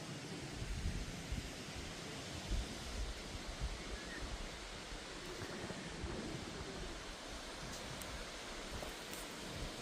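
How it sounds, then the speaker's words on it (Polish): Strong wind roars across an open outdoor spot during a pigeon racing competition flight, a loud, steady broadband rush with slight gusting swells and no clear talk. "Wiatrzysko, jak widzicie, masakryczne dzisiaj."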